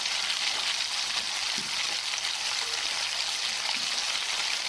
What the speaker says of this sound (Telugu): దాంట్లో ఆయిల్ హీట్ అయ్యాక స్పూన్తో పొంగనాలు వేసుకోండి.